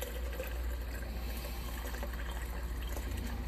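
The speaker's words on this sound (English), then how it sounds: "So we'll just pour that in there." Cloudy moonshine mixture poured from a container into a coffee filter: a steady, continuous liquid stream with a soft watery hiss, close and fairly quiet, with no talking.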